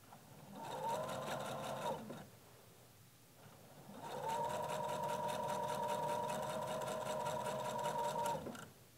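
A sewing machine stitches quilt binding in two bursts, a short run followed by a pause and then a longer steady run, its fast rhythmic whirr close and clear against a quiet room.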